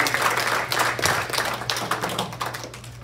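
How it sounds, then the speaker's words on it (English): A church congregation clapping for the worship team at a Sunday communion service, a close, fairly dense patter of hands that gradually thins over a few seconds. "We have another round of applause for our worship team."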